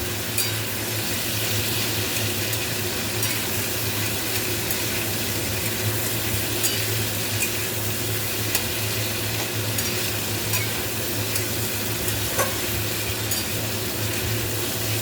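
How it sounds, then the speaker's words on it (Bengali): Potatoes and mushrooms fry in a pan while being stirred, giving a steady, continuous sizzle with soft scraping strokes throughout, close and fairly loud, with no talking. "তো এটা এভাবে নাড়াচাড়া করব আমি খানিকক্ষণ ধরে, এটা ফ্রাই হবে বেশ একটুক্ষণ"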